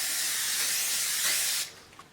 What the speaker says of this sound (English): Go ahead and spray your casserole dish